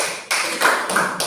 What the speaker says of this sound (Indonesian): Iya, kita berikan aplaus dulu